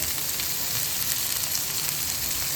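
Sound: stir-frying French beans and spring onions

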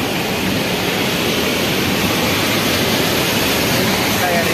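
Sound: mountain waterfall near Baralacha

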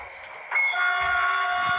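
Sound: train horn

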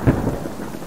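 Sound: rain and thunder in video game Subsistence

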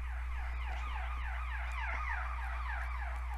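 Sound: ambulance siren

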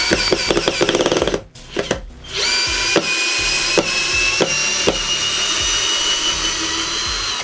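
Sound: Procraft PA212 cordless screwdriver driving a screw

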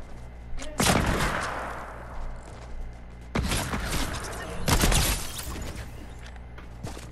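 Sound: hunting rifle gunshots in the video game Fortnite

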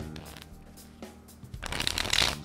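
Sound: riffle shuffle of playing cards

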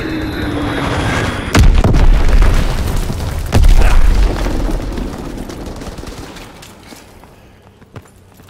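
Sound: bomb explosion and gunfire in Call of Duty WW2 video game

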